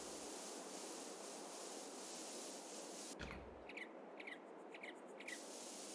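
Field line spraying machinery at the end of a field in Farming Simulator 22 on Xbox, a steady loud hissing spray with mechanical rubbing that briefly cuts to faint clicking before resuming.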